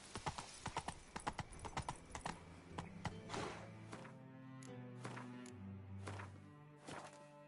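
Roach, a horse in a video game, gallops with fast, loud rhythmic hoofbeats that soon fade under a swelling musical score.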